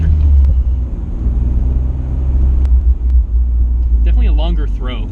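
A Midnight Purple Nissan Skyline R34 GT-R with a manual transmission being driven, its engine giving a loud, steady low rumble through the cabin, and a few brief voice-like sounds come in near the end.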